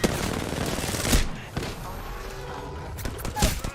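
Bursts of automatic gunfire in a first-person shooter, loud and rattling in several clusters with short gaps, layered over busy game effects and sounding fairly close.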